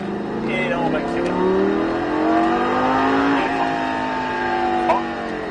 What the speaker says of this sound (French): Et là on va accélérer.